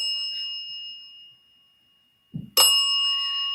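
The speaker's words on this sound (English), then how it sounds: "are you just banging the bell?" A bell rings with a sustained bright tone that slowly fades to near silence, then a dull knock comes just before a loud, fresh ring that keeps sounding, close by with no talking.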